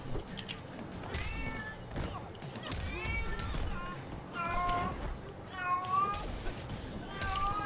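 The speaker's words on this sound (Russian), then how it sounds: "у меня кошка орет" A domestic cat yowling repeatedly in drawn-out, wavering meows close to the microphone, with muffled voices and game noise underneath.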